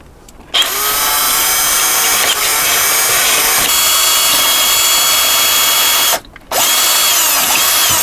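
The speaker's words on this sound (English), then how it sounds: "I'm just going to see if I can drill it a little bit." A loud power drill whines steadily at close range drilling into a fitting on a boat, stopping briefly once before starting again, with no voices.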